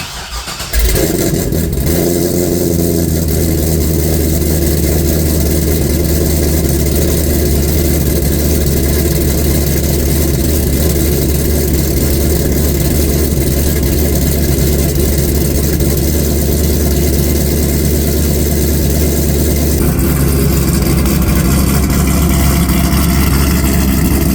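A C6 Corvette V8 cranks and fires, then settles into a loud, steady rumbling idle held close to the microphone for over twenty seconds, with a slight shift in tone near the end.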